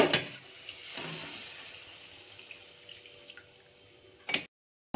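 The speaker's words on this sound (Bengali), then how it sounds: "এবার তাতে আমি জল দিয়ে দিচ্ছি।" Water poured into a wok of fried spice paste, a steady gushing pour with a faint sizzle, close by and alone, easing off before a short burst at the end.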